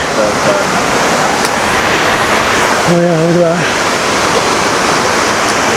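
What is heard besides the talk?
flowing water at desert waterfall pool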